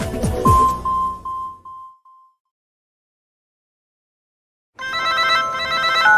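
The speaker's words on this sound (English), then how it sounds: "That's why I'm calling you on my new Wiz wireless camera phone." A telephone ringing in an ad for a Wiz wireless camera phone: loud repeated rings that fade out to silence, then a bright electronic ringtone pattern starts again.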